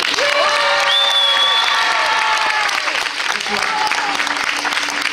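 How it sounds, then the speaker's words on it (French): Thunderous applause and cheering from a studio audience at a Christmas preview special of a French TV series, loud and sustained, with a voice and tonal sounds riding above the clapping. "Je vous demande un tonnerre d'applaudissements pour Laurent Kérusoré."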